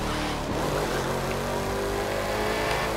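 A classic car's engine revs hard in The Crew 2 racing game, a loud, continuous roar with steady throttle and no gaps.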